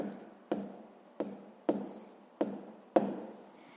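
A pen writing on paper while working a sixth-grade math exercise: soft, close scratching in repeated strokes, each starting with a sharp tap and fading, about five strokes in under four seconds.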